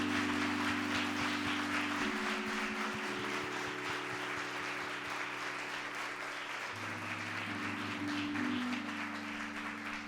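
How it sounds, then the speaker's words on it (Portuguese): Church congregation applauding during a testimony service, a sustained wash of clapping over a held organ or keyboard chord, fairly soft and distant throughout. "Eu quero até pedir vocês para aplaudir Jesus"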